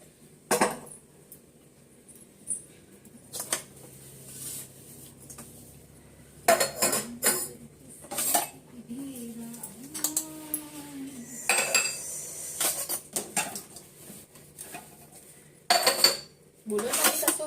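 Dishes, pots and pans clatter and clink in a home kitchen in sharp, scattered bursts of metal on metal, with a voice and some talk heard between the knocks.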